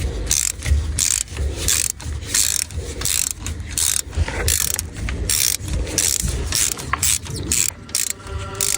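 A ratchet wrench with a CRV8 bit loosening a brake caliper bolt on a BMW 1 Series during a brake pad change, rapid close clicking in short bursts with brief pauses, loud and alone.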